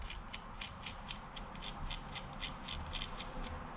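A rivet nut insert is screwed onto its installation tool during a 2007 Yamaha YFZ450 SE build. It comes through as a quiet, steady run of small metallic clicks and ticks, about a dozen in a regular ratcheting rhythm, close by.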